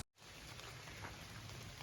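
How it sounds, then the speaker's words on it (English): Steady rain dripping and pattering down from trees along the Appalachian Trail after a shower, a dense, continuous wash of drops close by with no voices. "The rain's pretty much just coming from the trees right now."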